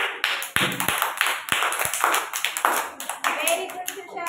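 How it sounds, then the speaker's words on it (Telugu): A group of young anganwadi children clapping their hands hard in a classroom, a dense burst of loud, uneven claps filling the moment, with voices mixed in. "అయితే గట్టిగా క్లాప్స్ కొట్టండి."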